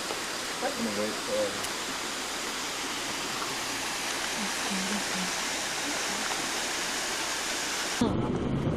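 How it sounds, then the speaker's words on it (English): A waterfall in Hana on Maui, with lush foliage around it, roars as a steady broadband rush. It holds at an even level throughout, with faint voices underneath early on, then cuts off abruptly near the end. "This is our first waterfall in Hana."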